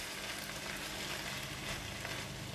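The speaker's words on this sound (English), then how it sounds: "add in the eggs and prawns. Stir for a couple of times to mix the flavors together" Eggs and prawns are stir-fried with luffa gourd in a hot pan, making a dense, continuous sizzle that stays loud and steady throughout.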